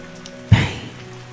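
Rain patters steadily on a surface beneath a soft lo-fi bed, with one brief louder splash or thump partway through; no voices.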